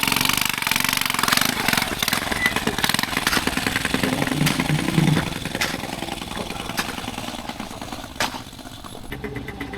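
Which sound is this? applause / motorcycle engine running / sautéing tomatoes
motorcycle engine running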